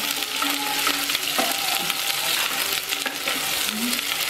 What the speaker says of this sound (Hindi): अब मैं इसमें डाल रही हूँ प्याज, तो प्याज डाल दी